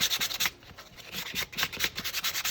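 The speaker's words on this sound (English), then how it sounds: "I'm just going to take my sandpaper and just go around and" Sandpaper rubs over a painted wood project to distress the finish, making quick rhythmic scratchy strokes, about a dozen in a row, close up and clear with no talking.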